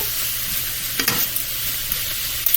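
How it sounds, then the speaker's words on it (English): Bacon and diced onion frying together in a pan, a steady close sizzle with a brief clatter as the mix is tossed and stirred, no talking. "Just keep on tossing it until that bacon is done,"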